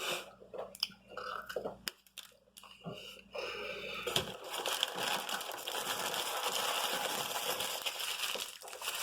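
Crunchy mouthfuls of a cheesy gordita crunch, a taco with a crisp shell, are chewed close to the microphone, with uneven crackling bites and wet chewing over several seconds.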